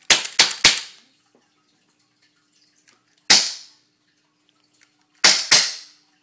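Five sharp shots from a Taurus PT-24/7 pistol, fired alone with no talk: a quick burst of three, a single shot, then a pair, each loud and close with a brief decay.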